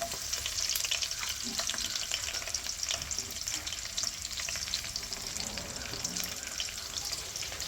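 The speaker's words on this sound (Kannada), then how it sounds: "ಈಗ ಮೆಣಸಿನ್ಕಾಯಿ ಹಾಕ್ಕೊತಾ ಇದ್ದೀನಿ." Green chillies frying in a pan with garlic for egg paneer fried rice, a dense steady sizzle with crackling pops running continuously and fairly close, with no voices.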